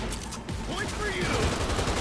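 A quick burst of gunfire rattles out in Cyberpunk 2077, sharp repeated shots filling the short moment under faint game noise.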